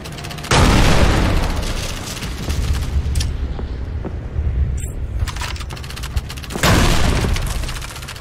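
A grenade goes off in the video game Call of Duty 3, a loud, close booming blast followed by a rumbling tail, and another heavy burst near the end, with no voices heard.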